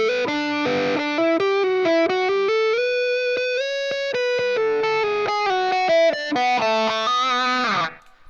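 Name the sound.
electric guitar played through a wah pedal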